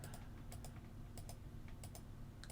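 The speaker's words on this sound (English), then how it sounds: "hit enter on the keyboard" Typing on a computer keyboard during a Maya 3D software session, a run of quiet, sharp key clicks in irregular bursts with gaps between them, faint and close, with no voice.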